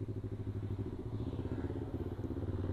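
A 2021 Yamaha R25 motorcycle on a night ride in Banda Aceh gives a steady, buzzing engine drone, close and fairly loud, with no talking over it.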